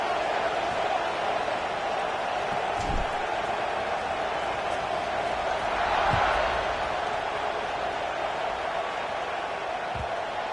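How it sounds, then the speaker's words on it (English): A college football stadium crowd keeps up a broad, steady murmur after a score, with a few dull thumps rising out of the wash and a brief swell near the middle. "this crowd is buzzing after that last score"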